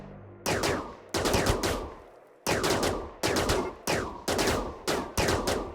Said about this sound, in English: Phaser rifles are going.